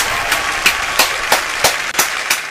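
Hand claps beat out a slow, even rhythm at a party, seven or eight crisp, close claps spaced about a third of a second apart.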